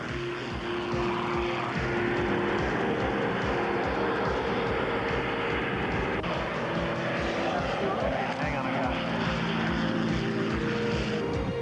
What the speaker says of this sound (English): Now, a dive into an aerobatic pattern called the split S.